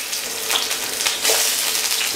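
Leek sizzling in hot olive oil in a pan for a French fish soup, giving a steady, close, hissing crackle with no talking.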